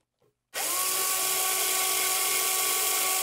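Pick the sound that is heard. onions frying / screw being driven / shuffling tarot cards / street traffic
screw being driven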